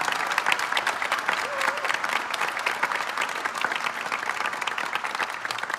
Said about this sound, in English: a round of applause for our orchestra conducted by faculty member Dr. Mark Kavanaugh